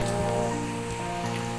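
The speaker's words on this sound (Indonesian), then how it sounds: "Ini di BPSDM Provinsi Jambi lagi hujan." Rain falling fairly heavily in the morning at a provincial government training centre in Jambi, Indonesia, a steady dense hiss of drops on surfaces, loud and continuous with no voices.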